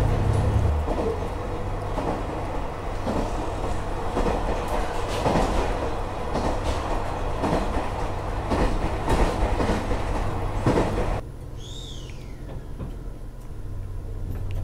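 A train on the Sapporo–Wakkanai line in northern Hokkaido, heard from inside with a loud, steady rumble and rhythmic rail clatter that suddenly drops to a quieter hum near the end.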